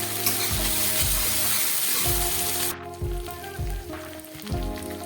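Ginger paste and green chillies fry in a pan for a fish-head curry, a loud, close, continuous sizzle that eases slightly partway through, with occasional stirring knocks and no speech.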